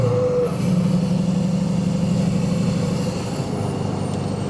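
A 6.6 Duramax diesel swapped into a Jeep Wrangler idles and rumbles steadily up close, with a low throbbing drone and a faint higher whine, no voices.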